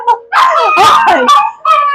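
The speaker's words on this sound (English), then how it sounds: "Now the dogs are howling." Several dogs howl and yip together at close range, a wavering chorus of overlapping tones with brief gaps, heard in a home pantry setting.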